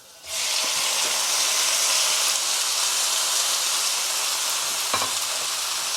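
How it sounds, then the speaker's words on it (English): Pork belly drops into boiling Malabar spinach soup, setting off a sudden loud, steady sizzling hiss that carries on close up without any talk. "So the soup is boiled a lot now. Add in the pork belly."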